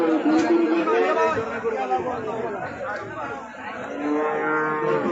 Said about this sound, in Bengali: দেখুন অনেক বিশাল সাইজের গরু